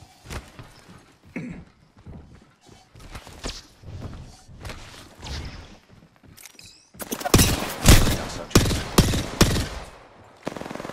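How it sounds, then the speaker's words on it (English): Weapon fire in Apex Legends, where a charge rifle is in use. Scattered quieter impacts and shuffling lead into a loud run of heavy, rapid shots near the end. "Stop it with the charge rifle!"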